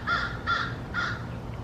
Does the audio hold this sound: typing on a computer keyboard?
no